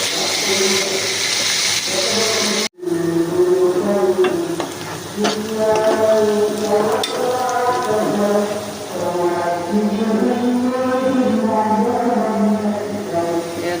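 Ginger garlic paste frying with salt in a pan, a close, steady sizzle with stirring scrapes, interrupted by a brief cut, while faint voices murmur beneath.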